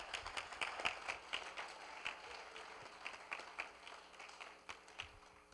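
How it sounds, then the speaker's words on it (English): Crowd applause at an anime convention's opening ceremony, the Anime Nebraskon 2019 event: a steady wash of many hands clapping at moderate distance, with brighter individual claps standing out. "So give yourselves a round of applause for coming out here and making a great event."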